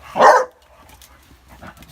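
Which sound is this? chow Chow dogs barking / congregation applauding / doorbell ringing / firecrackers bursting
chow Chow dogs barking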